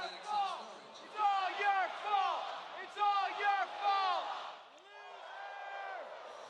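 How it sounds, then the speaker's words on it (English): Home crowd at a minor-league hockey game in Jacksonville, final home game of the season, cheering and whooping in loud swelling waves with an announcer talking over it. "Listen to this crowd."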